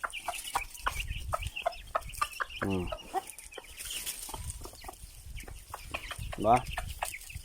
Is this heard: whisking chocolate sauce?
no